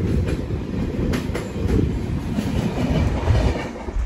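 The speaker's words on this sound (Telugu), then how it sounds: "ఇప్పుడు వెళ్ళింది ఏ ట్రైన్ అనుకుంటున్నారు? నాందేడ్ నుంచి విశాఖపట్నం వెళ్ళే ఎక్స్ప్రెస్." An express train rumbles past close by, a loud steady roar with rhythmic clacking of wheels over rail joints, near Samalkot Junction.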